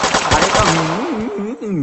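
Rapid bursts of gunfire from a VR monkey game crackle loudly in the first part, then a harsh, wavering electronic tone continues on its own.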